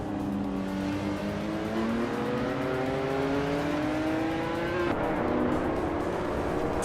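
2019 Ginetta G55 GT4 race cars at Virginia International Raceway roar at full throttle, with engine pitch climbing steadily through a gear before an upshift drops it and the climb starts again. The engines sound close, loud and continuous, with no talk.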